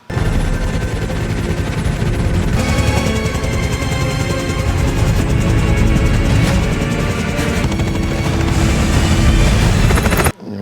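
Helicopter rotor and engine noise in an action scene from the 2025 movie The Old Guard 2, loud and continuous, mixed with gunfire, bursts and a dense action soundtrack for about ten seconds before cutting off abruptly.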